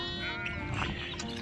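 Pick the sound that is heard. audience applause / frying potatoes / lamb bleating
lamb bleating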